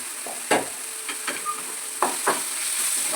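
Tomatoes with salt and turmeric frying in a pan give a steady hiss of sizzling, broken by several scraping strokes of a spoon stirring, close and clear with no talking.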